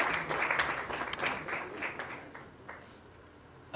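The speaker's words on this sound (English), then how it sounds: "A big round of applause for Mr." An audience at a campaign launch event applauds Ashok Kapoor, a full, even wash of clapping that gradually thins and fades, with a few louder claps near the end.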